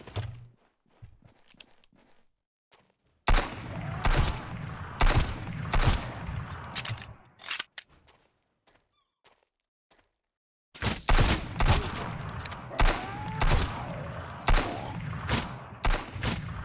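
Bursts of gunfire in Sunkenland, rapid clusters of loud cracking shots in two long volleys separated by a quiet stretch with scattered faint thumps, nearby and without talk.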